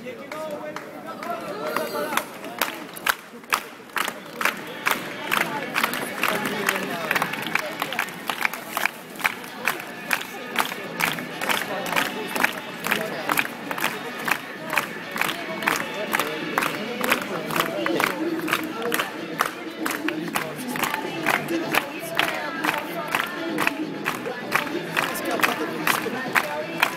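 A large crowd applauds and cheers for a substitute at a match, with steady rhythmic clapping and shouted chants, loud and close, continuing for the whole stretch.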